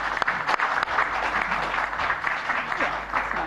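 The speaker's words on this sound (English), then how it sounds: "we'll give our superstars a big round of applause for their time this afternoon." A crowd applauds steadily at a cricket press conference, a dense wash of clapping with a few sharp claps up front, with murmured voices underneath.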